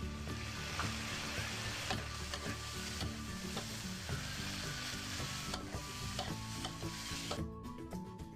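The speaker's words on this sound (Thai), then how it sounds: "ใส่ลงไปเลย ผัดต่อครับ" Curry paste stir-fried in a hot pan for an old-style Thai basil stir-fry, a steady close sizzle and crackle with scraping and stirring strokes throughout, no talking.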